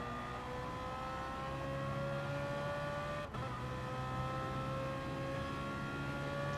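BMW M3 Gr3 race cars at full power on Monza's back straight in sim racing, a steady high engine drone with rising harmonic tones as the cars accelerate and shift, loud and continuous with no talking.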